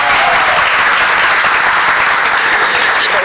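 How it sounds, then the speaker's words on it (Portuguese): Loud, dense applause from a crowd at a Brazilian panel on LGBT health studies, policy and rights, sustained steadily for a few seconds without letting up. "Aplausos!"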